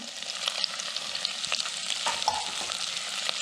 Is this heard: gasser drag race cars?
no